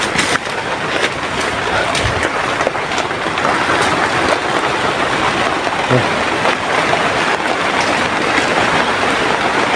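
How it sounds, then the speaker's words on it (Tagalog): Steady heavy rain hisses throughout, loud and close, with a dense wash of patter and a few faint thumps underneath. "Yan, ulan na naman."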